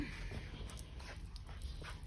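A dog whimpers softly in a garage, short faint whines repeating over a steady background hum.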